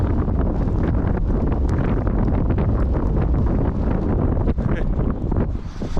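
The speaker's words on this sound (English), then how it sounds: "it's pretty windy" Strong, continuous wind buffets the microphone with loud rumbling gusts throughout, close and constant, with no clear voices over it, at a campsite beside a campfire.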